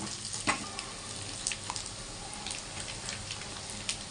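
Fish frying in a pan of hot oil with curry leaves, coriander powder and ground masala of cumin, garlic and ginger: a soft, steady sizzle with scattered small pops and crackles, fairly faint and with no talking.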